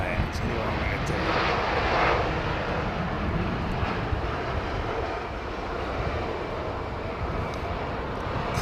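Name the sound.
British Airways airliner from Las Vegas on final approach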